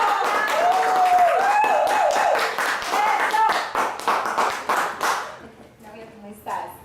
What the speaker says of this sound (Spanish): Así que quiero que recibamos con un fuerte aplauso a Claudia Torres.